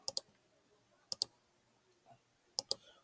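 A computer keyboard spacebar is pressed three times, each a quick double click, crisp and close in an otherwise quiet room.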